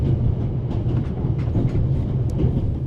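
A train rolls along its rails in the video game The Raven Remastered, a steady, heavy low rumble with light rhythmic clatter throughout and no one speaking.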